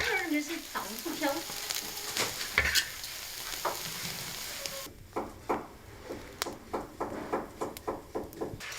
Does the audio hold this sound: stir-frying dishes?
yes